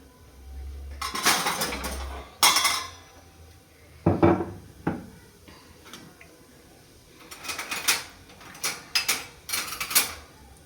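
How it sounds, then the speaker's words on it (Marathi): Pots and dishes are scrubbed and handled at a household sink, with clinks, clatters and bursts of rubbing or running water coming in uneven clusters at close range. "स्वयंपाक बनवता थोडेफार भांडे पडले, लगेच घासले ना, जास्त वेळ नाही लागत आहे."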